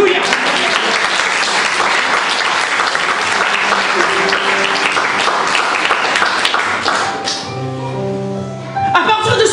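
Church congregation applauding at a worship service, steady dense clapping filling most of the stretch, then fading as a sustained tone rises near the end.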